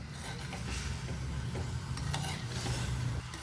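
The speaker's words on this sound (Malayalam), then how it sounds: "നമ്മുടെ മീനൊക്കെ നന്നായിട്ടൊന്ന് തിളച്ച് വന്നിട്ടുണ്ട്. ഒന്ന് ജസ്റ്റ് ഇളക്കി കൊടുക്കാം." Kerala-style sardine curry boiling in a pot while a spoon stirs it, with a soft steady bubbling simmer and faint scraping close by, no voices.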